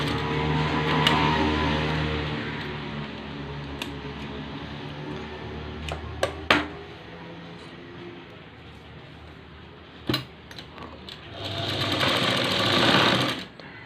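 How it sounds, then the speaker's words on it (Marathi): A sewing machine stitches over fabric tucks, a loud steady mechanical whir with a few sharp clicks midway and a louder burst near the end, with no voices. "म्हणून आधी एक त्याच्यावर शिलाई मारून घ्यायची"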